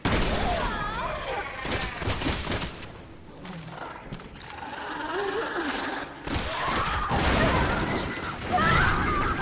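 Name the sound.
gunshots in video game Resident Evil 6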